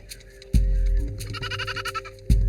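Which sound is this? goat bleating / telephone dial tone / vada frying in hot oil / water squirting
goat bleating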